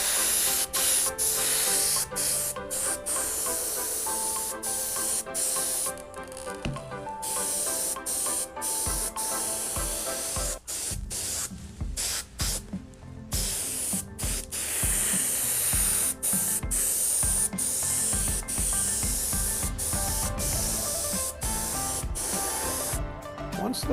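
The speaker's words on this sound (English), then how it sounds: "What I'm doing in this step is spraying in a clear polyurethane" Clear polyurethane is sprayed into a rocket skin mold as a loud, continuous hiss that runs almost unbroken, interrupted only by brief gaps and faint clicks.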